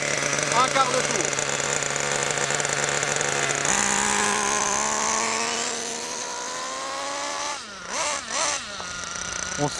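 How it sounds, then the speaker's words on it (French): A nitro-fuelled model engine being tuned at full throttle screams with a high, steady whine that climbs in pitch partway through, then dips and recovers with brief surges near the end, loud and close. "On entend déjà le moteur qui prend un peu plus de tours"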